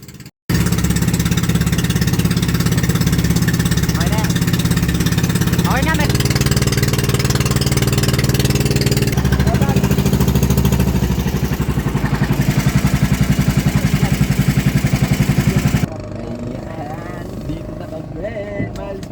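Motorized wooden boat engine droning loud and steady during a river crossing from a pier to a riverside village, a constant mid-pitched throb that drops off near the end, with people talking over it.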